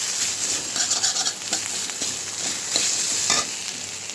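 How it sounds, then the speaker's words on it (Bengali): Spices frying and being stirred for khichuri, a close crackling sizzle broken by repeated spoon scrapes and clinks against the pan, uneven in loudness with no voices. "মশলাটা আমার ভাজা ভাজা হয়ে গেছে"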